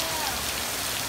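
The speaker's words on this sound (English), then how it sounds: "So it's raining super hard." Heavy rain pours down outside in a steady, dense hiss with no breaks, close and constant throughout.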